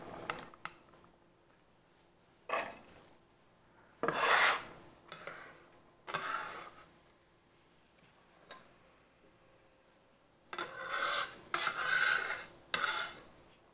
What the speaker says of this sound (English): I'm going to scrape the fresh corn into this